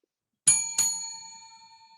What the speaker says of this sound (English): So Mike reckons we need to tune up the bell